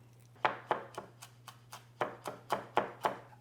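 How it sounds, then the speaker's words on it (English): Knife chopping flat-leaf Italian parsley on a cutting board: about eleven quiet, crisp chops in a fairly even rhythm over a faint steady hum, with no talking. "I'm going to finish up chopping the herbs that are going to garnish the final dish"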